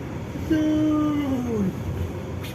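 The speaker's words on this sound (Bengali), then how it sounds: "ট্রেন এখন সাজকাচুয়ার নদীর উপর দিয়ে যাচ্ছে" A train crossing a river bridge in Edmonton, Canada rumbles along with a steady low roar, and a long, drawn-out screech of metal wheels rises above it and then slides downward.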